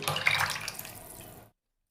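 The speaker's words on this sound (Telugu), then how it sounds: "మనం ముందుగానే తీసి పెట్టుకున్న చింతపండు పులుసు" Tamarind extract pours into a cooking pot of drumstick rasam, a steady liquid splash lasting about a second and a half before cutting off, close and fairly quiet with no talking.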